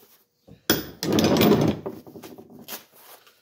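Craftsman ratchet wrench heads, 1/2 and 3/8 inch drives, click and rasp in a few quick bursts, one longer rough stretch followed by shorter ratcheting strokes, close and alone.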